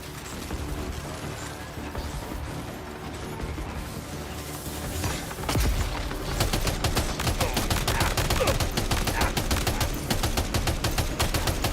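Dense enemy gunfire in a video game, with rapid overlapping shots that swell into a loud, continuous fusillade of sharp cracks from about midway on. No voices are heard.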